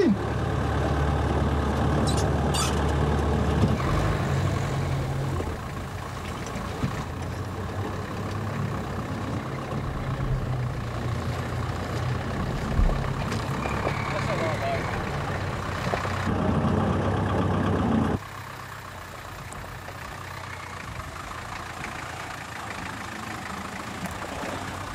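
A vintage Land Rover with no power steering and low power, off-roading at a 4x4 club challenge: a steady, loud, low engine drone that drops abruptly to a quieter, rougher idle-like hum near the end.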